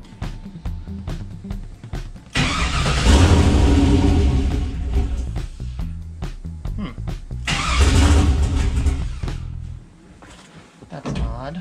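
A 6.0 CUCV diesel engine in a squarebody truck starts up close by in two loud roaring bursts, each settling back down. Someone talks over the engine.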